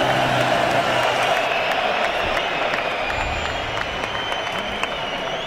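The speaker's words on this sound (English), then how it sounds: "Ola Afolabi taking the applause of the crowd." A large boxing crowd applauds and cheers WBO Intercontinental Champion Ola Afolabi after his first-round knockout of Terry Dunstan, a dense, steady roar of clapping and voices with scattered whoops throughout.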